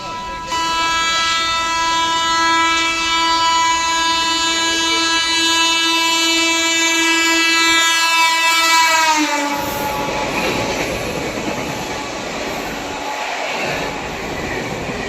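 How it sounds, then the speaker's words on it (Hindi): A passing train on the Ranchi Rajdhani Express route overtakes at Firozabad station, its long, loud horn blast held for about nine seconds before the rumble and clatter of the carriages rolling close by take over. "सामने से कोई ट्रेन आ रही है ओवरटेक करने"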